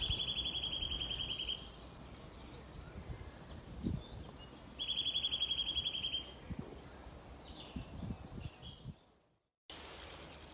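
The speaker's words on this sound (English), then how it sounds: "There's a bird behind me that's saying, dwees, dwees. This one's a greenfinch." A greenfinch sings outdoors, repeating a high, buzzy wheezing phrase in two long bouts over steady background noise, with faint rustling and other birds around.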